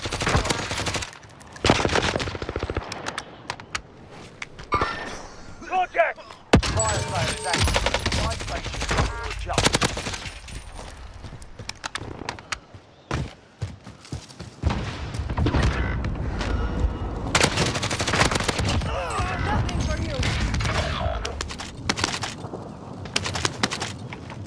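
Gunfire in the Call of Duty Warzone video game: rapid automatic bursts and single shots crackling loud and close, coming in repeated clusters over a busy battle backdrop, with no talking.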